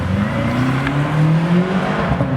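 A BMW M6 engine revs hard nearby, a loud, steady roar with rising pitch that holds throughout and ends with hints of wheel spin.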